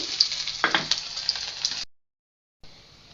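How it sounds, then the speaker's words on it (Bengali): Sliced onions fry in hot oil with a bright, steady sizzle and a few spatters, cutting to silence partway before the hiss resumes more faintly. "পেঁয়াজটা আমি আগে বেজে নিচ্ছি"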